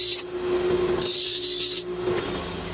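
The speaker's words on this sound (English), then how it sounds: "I gotta turn on the bench grinder for a second." A bench grinder in a home workshop runs with a steady motor hum and a bright whine, a higher-pitched burst cutting in through the middle of the short stretch, close and fairly loud.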